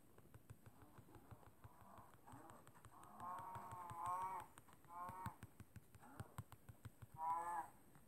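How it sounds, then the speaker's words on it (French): A cow mooing in a survival video game, several drawn-out moos at moderate volume over a steady background of clicking and low game ambience, with no talking. "Encore une vache."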